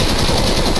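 A short, loud burst of rapid automatic gunfire, close and harsh, in the video game Escape from Tarkov.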